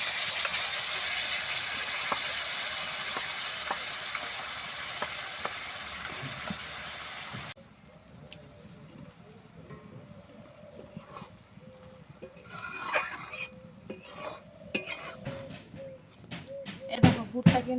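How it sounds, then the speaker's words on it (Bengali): Sugarcane jaggery heating in a wok for sweet flattened-rice balls, a loud steady sizzle that suddenly quiets into softer bubbling with scraping and clattering of stirring, while someone talks over it. "এবারে কিন্তু নাড়ু করার জন্য কড়াইতে দিয়ে দিচ্ছি আখের গুড়।"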